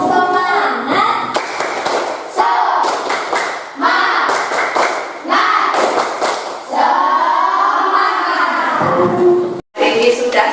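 Primary-school class performing the tepuk semangat clapping chant, a burst of rhythmic hand claps in quick patterned groups mixed with children's chanted voices, loud and close, filling a classroom.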